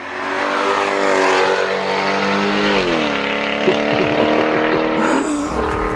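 Supercharged Mercedes-Benz CLK DTM AMG engine with long tube headers roars loudly and steadily up close, a dense harmonic growl that dips in pitch midway, then climbs again before easing off near the end.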